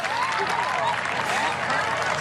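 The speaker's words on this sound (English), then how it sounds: "Listen to the crowd. They're cheering." Crowd gathered outdoors for a total solar eclipse cheering and applauding, a steady wash of distant clapping and voices lasting about two seconds.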